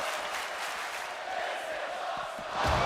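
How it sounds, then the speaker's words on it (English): A crowd at a wrestling show chants continuously in a dense, roaring wash of voices, swelling louder near the end. "Crowd already chanting, this is awesome."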